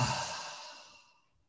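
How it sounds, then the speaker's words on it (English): A single deep inhaled and exhaled breath during a Vivation breathing exercise, close and fairly loud at first, fading out over about a second and a half with no talking. "Now take a deep breath."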